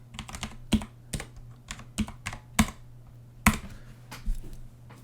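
Keys clack on a computer keyboard as a command is typed, irregular taps and firmer strikes close by over a faint steady hum, with no talking.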